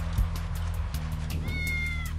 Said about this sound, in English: we like to try to get the assailant, otherwise known as the cat, down the power pole the easy way